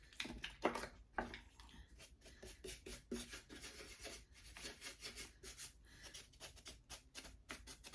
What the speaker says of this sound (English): Just rub it against the edges, and it picks up the line of the shape of the surface.